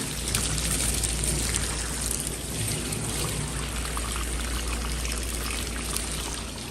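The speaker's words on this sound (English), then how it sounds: "We just use a standard hose. It seriously is just volumes of water to get everything soaked." Water from a standard garden hose pours steadily onto a Rough Collie's thick coat, a continuous close splashing gush with no voices.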